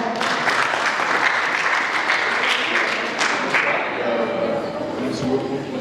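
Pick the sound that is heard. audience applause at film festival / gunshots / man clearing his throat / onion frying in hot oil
audience applause at film festival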